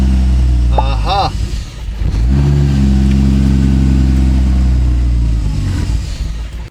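A Toyota Supra engine tuned on an ECUMaster unit, still running slightly lean, drones loudly and steadily at close range, briefly dipping before settling back to a strong, even run; a voice speaks over it early on.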